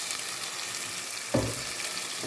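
Ground coconut paste is poured into onions frying for a fish curry. A steady soft sizzle breaks into a sudden louder burst of bubbling hiss partway through, then settles back down.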